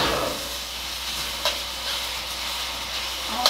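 Chicken and broccoli stir-frying in a wok, a steady close sizzle with faint scraping touches, alone without voices.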